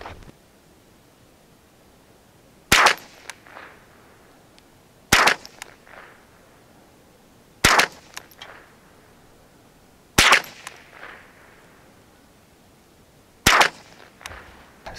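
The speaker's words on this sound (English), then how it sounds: "we'll do another five round group. Shoot the bottom right target and see how that goes." Ruger 10/22 rifle firing a five-round group at a target range, five sharp, loud cracks spaced about two and a half seconds apart, each followed by a brief echo and faint handling noise.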